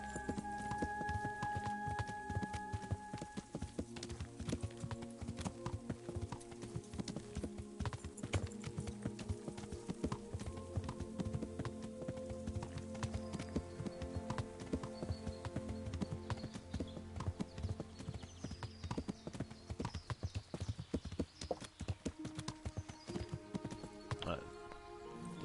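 Continuous hoof beats of a horse in Kingdom Come: Deliverance, a brisk clip-clop rhythm lasting the whole stretch beneath game music, with a voice talking over it.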